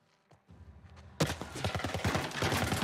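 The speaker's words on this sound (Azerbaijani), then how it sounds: "Kimsə hardansa başqa ateş açan yer var" Rapid burst of gunfire in the video game The Last of Us Part 1, loud and dense after a quiet start, with sharp repeated shots overlapping in quick succession.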